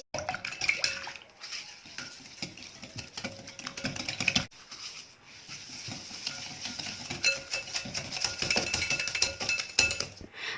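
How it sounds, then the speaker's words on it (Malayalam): Sugar and a single egg being mixed for a cake batter, a continuous close scraping and sloshing stir with a quick, busy texture and short pauses. "പഞ്ചസാരയും ആ ഒരു മുട്ടയും കൂടെ ഒന്ന് മിക്സ് ചെയ്തെടുക്കുക"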